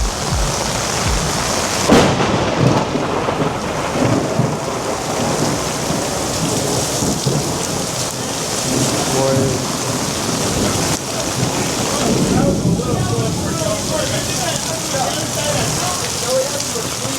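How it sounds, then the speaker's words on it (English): Steady heavy rain from a tropical storm in Miami Beach pours throughout, with rumbles of thunder rolling underneath and a loud crack near the start; a voice speaks briefly in the background. "Everywhere I go, it starts to rain."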